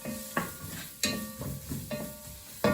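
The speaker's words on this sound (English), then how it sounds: "I'm going to cook the onions off until they are they've gone transparent" Onions cooking in a pan for Mexican fiesta rice, giving a steady low sizzle broken by several louder scrapes and stirs roughly every half second to second, close and alone.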